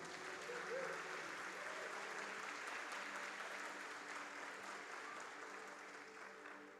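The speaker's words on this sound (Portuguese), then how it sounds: "levanta a outra e começa a aplaudir o Senhor bem forte" A church congregation applauds during a sermon, soft sustained clapping heard at a distance with faint tonal music and a voice running underneath.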